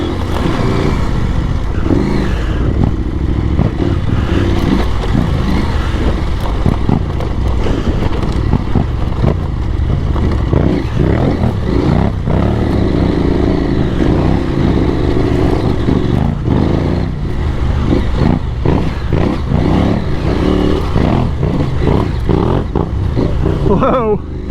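Off-road motorcycle on Dunlop Trailmax Mission tyres, engine loud and close, revving and holding a steady throttle with rattling clatter from rough terrain, while a rider talks over it throughout.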